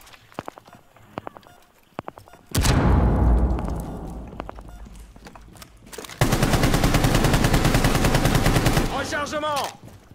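Video game gunfire: a few faint ticks, then a loud burst that rings out and fades, followed by a long, close stream of rapid automatic fire lasting several seconds before cutting off.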